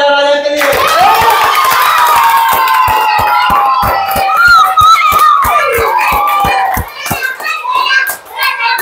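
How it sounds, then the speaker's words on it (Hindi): Children in a class performing the play Andher Nagri clap together in a steady, fast rhythm for about nine seconds, close and loud, while young voices chant and sing over the beat. "चलो सब ताली बजाओ राजा के लिए।"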